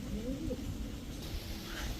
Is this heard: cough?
no